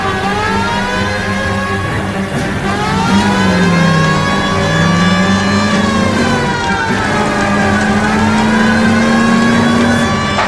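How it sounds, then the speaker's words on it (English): Detective car engine roaring loud and close in the L.A. Noire police pursuit, its droning pitch sweeping down and up through several revs and gear changes over a continuous, dense mechanical hum. "That's Kelso's car."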